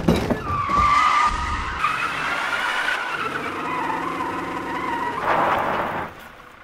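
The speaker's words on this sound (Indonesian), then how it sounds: "mereka mengalami kejadian yang mengejutkan ketika mobil seolah menabrak sesuatu" A car jolts as if striking something and skids: a loud tire screech up front, then engine rumble and scraping as it slides, ending in a fading squeal.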